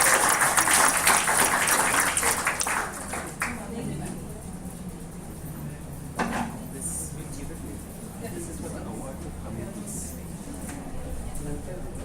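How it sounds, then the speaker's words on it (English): Conference audience applause swells loudly at first, then thins into scattered clapping under hall noise and a speaking voice. "Can we have a huge round of applause for Madam?"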